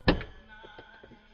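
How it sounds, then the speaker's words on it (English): A car door opens with a single soft thunk at the start, followed by a faint rattle and fading mechanical noise, heard close up without talk. "Hang on, let me get your door."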